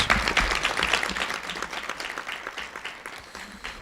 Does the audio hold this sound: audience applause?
yes